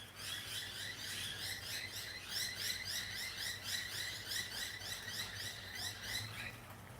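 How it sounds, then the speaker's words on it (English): Faint, rapid high-pitched chirping of Australian birds repeats steadily over a quiet background hiss, like small birds calling from a distance. "Can you hear those birds?"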